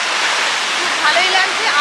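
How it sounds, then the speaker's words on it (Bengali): Sea waves wash onto the shore at Digha in a broad, continuous hiss of surf, close and steady over about two seconds, with faint tonal sounds near the end. "ঢেউগুলো তীরে এসে আছড়ে পড়ছে"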